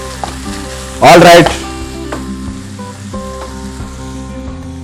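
Chicken and bean sprouts stir-fried Malaysian style in a hot pan give a loud burst of sizzling for about a second, then fall back to a quieter background with a few light clatters; a voice speaks briefly.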